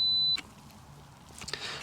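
Camera self-timer on a two-second countdown outdoors in a woodland, a single steady high electronic beep up close that cuts off, followed by faint handling clicks and rustle.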